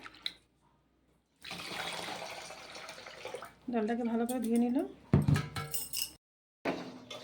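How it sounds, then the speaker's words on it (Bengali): Red lentils are rinsed in water, with a stretch of sloshing and splashing from the bowl, followed by a person speaking and a few clattering handling sounds. "ডালটাকে ভালো করে ধুয়ে নিলাম"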